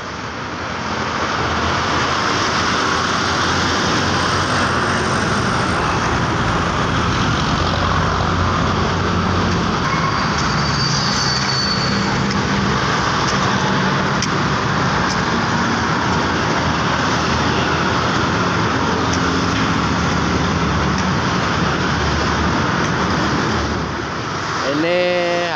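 Bus HR 099 arriving at the Pengging garage to transit passengers, heard as a loud continuous engine and road rumble that holds steady throughout, with the vehicle close by and people audible around it.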